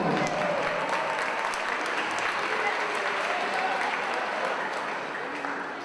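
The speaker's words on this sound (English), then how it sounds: "the round of applause." A wrestling arena crowd at an NWA championship event in Tokyo applauds steadily, a dense, even wash of clapping that holds at full strength before easing slightly at the end.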